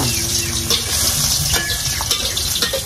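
Ginger, onion, garlic and chili sauté in a hot pan for chicken adobo, a loud steady sizzle with occasional stirring scrapes and clinks.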